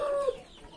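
A rooster at a poultry yard gives a single short, close call that fades out within a second.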